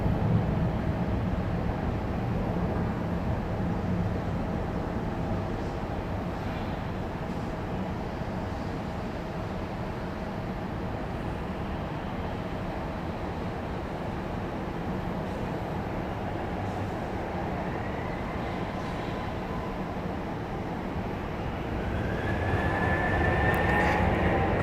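An Avelo airliner jet taking off from runway 23 left at Raleigh Durham airport on a wet day, a steady distant engine roar that swells toward the end, with no talking.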